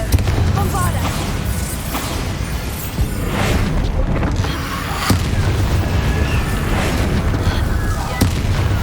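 Booming spell blasts from Bombarda and Confringo in the video game Hogwarts Legacy, dense explosive bursts and pops over a continuous loud game soundscape with music and effects, several sharp impacts spread across the stretch.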